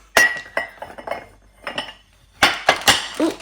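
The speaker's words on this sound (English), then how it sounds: "a serving dish that has these 4 dishes like this in" Small dishes clink as they are set into a serving dish in a home kitchen, several sharp clatters in uneven bursts close by, with no voices.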